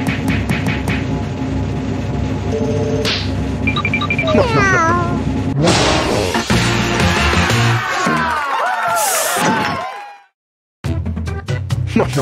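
Cartoonish cat meows ring out in a Jackbox party video game during its final scoring screen, mixed with music, crowd-like cheering and sweeping effects, then a brief silence before the game audio resumes.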